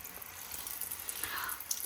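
Hot water runs from an instantaneous electric water heater faucet over a double sink, a soft steady hiss and splash close by, faint and continuous with a slight rise toward the end.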